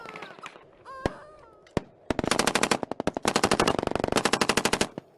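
Gunfire plays as a sound effect in a documentary, starting with a couple of isolated sharp shots among faint background sounds, then breaking into a loud, rapid burst of automatic fire lasting about three seconds.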